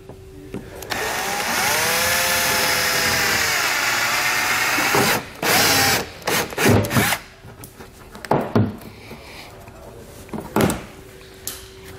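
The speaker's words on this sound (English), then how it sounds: "We need to drill a hole right through the center so we can remove the rivet." A small drill bit bores out a rivet on the lower silver section of a 2014 BMW X1 during a trailer hitch installation: a sustained close whirring run of several seconds, then short bursts and clunks.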